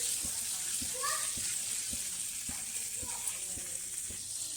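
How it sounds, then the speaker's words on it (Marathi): Turmeric stirred into warm oil for amla pickle, a soft continuous sizzle with faint regular ticks of a spoon against the pan, a voice briefly audible in the background. "आता यात आपण हळद घालून घेऊ हळद चांगलं तेलामध्ये मिक्स करून घेऊ"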